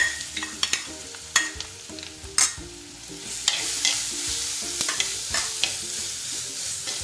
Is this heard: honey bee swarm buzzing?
no